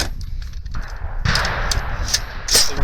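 Gunfire from a PWS MK216 rifle sounds as dense, rapid cracking bursts over a heavy rumbling background, loud and close, with no voices over it.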